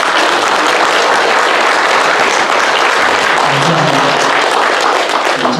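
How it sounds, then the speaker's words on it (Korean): Loud, dense applause from a large church congregation at an elder ordination, sustained evenly from start to finish. "박수로 한번."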